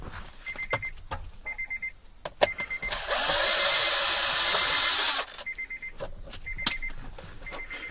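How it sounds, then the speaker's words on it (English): Phillips screws being removed from the plastic steering column cover of a 2014-2017 Honda Odyssey: a power driver whirs steadily for about two seconds, surrounded by sharp clicks and short repeated electronic beeps, close and fairly loud. "remove the 2 Phillips screws on each side of the steering column cover plastic"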